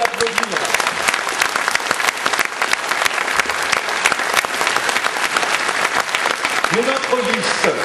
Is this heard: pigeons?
no